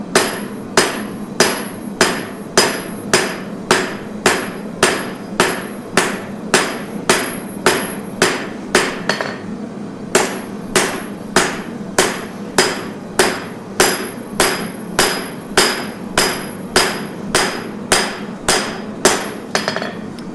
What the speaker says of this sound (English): forging a bear tooth